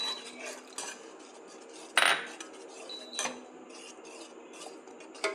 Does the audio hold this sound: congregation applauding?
no